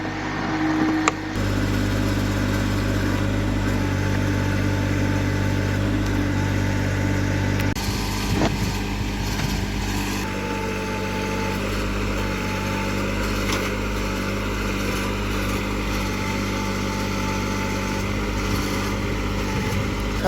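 A small John Deere tractor with a backhoe attachment digs clay, its engine droning steadily and fairly loud throughout, with clanks and shifts in the motor's note as the bucket works.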